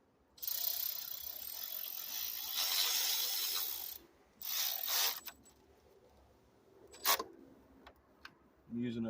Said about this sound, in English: I'm using a quarter drive Milwaukee M12.